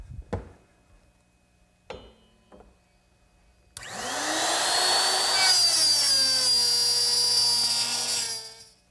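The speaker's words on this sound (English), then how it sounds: "the instructions for my jig tell me to use the same router setup, but this slot to make the female part of the dovetail" A router with a dovetail jig starts with a rising whine and then cuts a dovetail slot in a loud, sustained, close-up whir, after a few short clicks and knocks.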